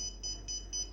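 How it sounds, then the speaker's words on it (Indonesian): An obstacle detector's buzzer sounds a steady series of about four short, evenly spaced high beeps, faint over a low background hum. "selain itu buzzer akan berbunyi"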